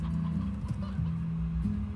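Faint, low clucking from chickens in Slime Rancher, a brief continuous burble of fowl sounds with a couple of slightly sharper clucks, alone without speech.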